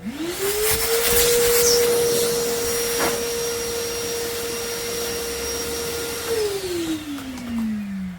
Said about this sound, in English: I'm gonna go ahead and use the vacuum to clean up the dust that's in there